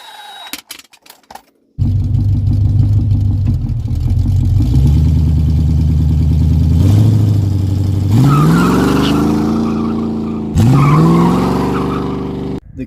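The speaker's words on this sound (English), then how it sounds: "The car spins both wheels, but it's an open diff." A car with an open differential revs hard while spinning both drive wheels, the engine note climbing and falling through several loud surges with a whining, tire-scrubbing edge, close and dominant after a brief quiet start.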